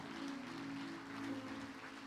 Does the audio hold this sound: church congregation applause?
yes